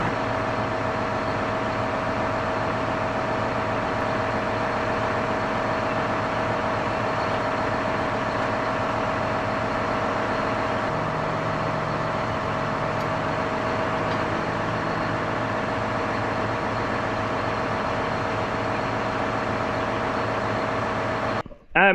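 John Deere 6215R tractor engine running steadily at a loud, even drone for the whole stretch, close by, with a few voices speaking over the heavy low rumble.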